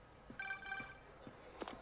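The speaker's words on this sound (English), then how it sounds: "Phone call." A phone rings in the Marvel's Spider-Man video game, a faint short electronic ring tone heard once at low volume among a few soft footstep-like taps.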